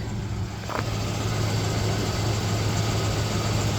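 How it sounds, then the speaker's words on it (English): A Ford Ranger pickup with a new Powertorque engine idles steadily with a low, continuous rumble and a faint rapid ticking from an exhaust leak at loose header bolts, close by, with no talking. "Kind of sounds like it has either an exhaust leak or maybe a lifter tap"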